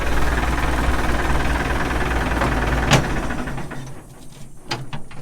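An old CAT loader's diesel engine runs steadily with a low rumble, then winds down and cuts off about three seconds in, leaving a few clanks and rattles in the quieter tail.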